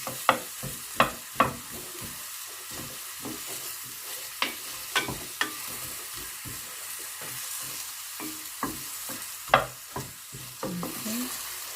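Onions frying in a little oil in a preheated pan for Ilocano igado, with a spoon or spatula stirring them; a steady sizzle sits under repeated sharp scraping strokes, close and clear, with no talking.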